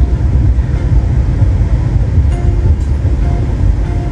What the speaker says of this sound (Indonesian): kereta api Majapahit masuk pemberhentian berikutnya, stasiun Bekasi